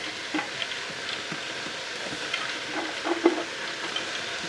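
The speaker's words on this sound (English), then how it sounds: "So we're now ready to add our 300 grams of split yellow peas" Split yellow peas tipped into a pan of sizzling softened carrots, leeks and shallots, a low steady fry with scattered soft rattles and patters, close and without talk.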